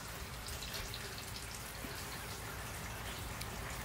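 Soft steady hiss of light rain falling outdoors in Northeast Florida, with faint scattered patters, continuous and even with no voices.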